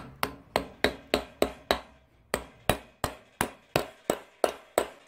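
A dust cap is hammered onto a boat trailer wheel hub in about fourteen sharp, ringing metallic strikes, close and loud, at a steady pace with one short pause midway.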